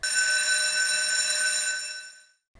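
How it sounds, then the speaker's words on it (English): House of Assembly division bells ringing like school bells: a steady, bright metallic ring sustains for about two seconds, then cuts off abruptly, with no voices. "The House of Assembly bells sound like school bells"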